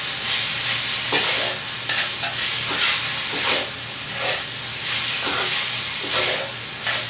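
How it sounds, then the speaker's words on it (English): Ground beef stroganoff sauce being stirred after arrowroot is added, a steady sizzling hiss of the hot pan with repeated scraping strokes of a spoon roughly every second, close and continuous with no talk. "the arrowroot's in there, and just stir it around."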